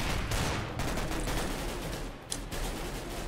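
Rapid gunfire from the Minecraft minigame MineStrike, a dense continuous fusillade of shots throughout, fairly loud with one sharper crack near the end.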